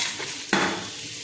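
Chopped onions sautéing in oil in a pan for mushroom biryani, a soft sizzle with a sudden scraping stir partway through, then continued frying hiss.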